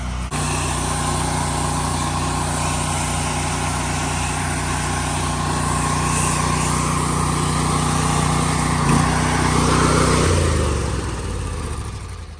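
A 12-volt pump runs while soft washing graffiti, producing a loud, steady motor drone with spray hiss that cuts off and winds down near the end.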